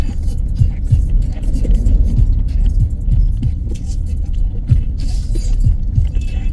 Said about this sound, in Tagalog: hindi na mawawala ang traffic.